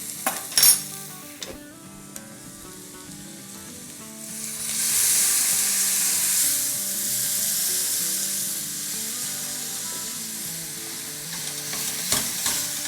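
Chicken fries with onions in a pan, with utensil clatter and stirring scrapes at first, then a loud, steady sizzle swelling up, without talk.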